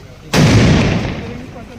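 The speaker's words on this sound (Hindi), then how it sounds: "21 तोपों की सलामी हो रही है।" A single loud cannon blast from a 21-gun salute at a religious welcome ceremony booms suddenly and rolls off into a long fading rumble.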